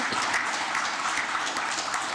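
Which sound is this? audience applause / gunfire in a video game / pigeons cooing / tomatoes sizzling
audience applause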